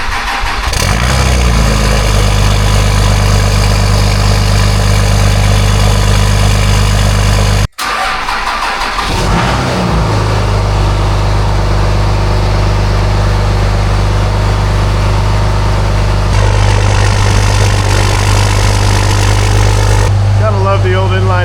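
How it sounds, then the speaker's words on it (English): Old common rail diesel engine, a 7.3 that has sat unused for a few months, cranking and catching, then settling into a loud, rough, steady idle up close with a brief cutout partway through. "Curious to see how the old common rail bust off. This thing hasn't ran in a few months."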